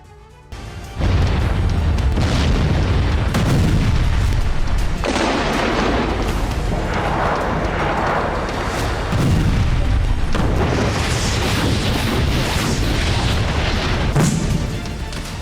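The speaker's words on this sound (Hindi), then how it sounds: "वॉर ग्राउंड में होते ये धमाके," Heavy explosions on a battlefield in the Russia–Ukraine war, several loud booming blasts in succession with rumbling tails that roll into one another, close and powerful with no talk.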